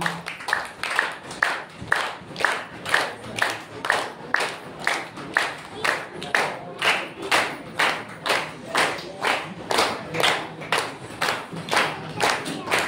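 A crowd at a church's third anniversary worship service claps in unison, a loud, steady rhythm of about two sharp claps per second that goes on with a crisp, even beat.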